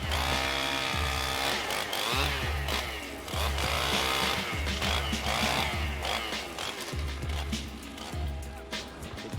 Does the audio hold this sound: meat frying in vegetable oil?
no